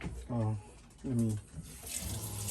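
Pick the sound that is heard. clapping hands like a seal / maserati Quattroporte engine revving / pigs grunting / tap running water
tap running water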